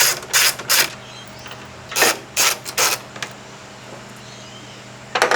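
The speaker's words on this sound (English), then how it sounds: "There are 2 bolts behind each headlight cover that we have to undo" A ratchet clicks in short bursts while undoing bolts behind the headlight cover of a Mazda RX-7, several quick close-up ratcheting runs separated by pauses.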